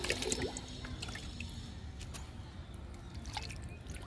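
Liquid fertilizer poured onto pink and red hibiscus plants, giving faint, quiet dripping and trickling with a few soft splashes over a low background hum.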